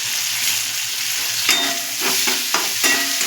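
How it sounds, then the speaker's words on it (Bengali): Tomatoes sizzle as they fry in a pan for red lentil dal, with a steady hiss underneath and several distinct scraping stirs of a spoon toward the end, close and fairly loud. "টমেটোটা দিয়ে কিছুক্ষণ নাড়াচাড়া দিয়ে আমি ডালটা দিয়ে দেবো"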